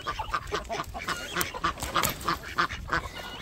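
A domestic goose or duck honks repeatedly in a farmyard among other fowl, the loud, nasal calls coming in an uneven, steady series close by.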